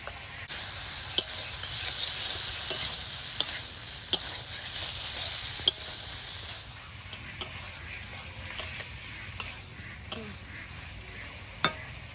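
Dried loitta fish cooks in a spiced masala, and potatoes go into the pan. Close, steady sizzling continues throughout under sharp, irregular spatula taps and scrapes, with no talk.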